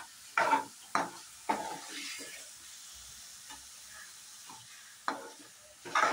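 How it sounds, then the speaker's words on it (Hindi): Tomatoes frying in a pan for dhaba-style sev tamatar, a sizzling hiss broken by several loud scraping stirs of a spoon, close and alone. "अभी टमाटर डाल के हमें अच्छे से इसे भून लेना है"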